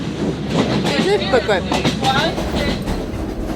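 A train rolls along tracks in Sri Lanka with a steady rumbling, rattling carriage noise close by, while a person talks over it for most of the stretch.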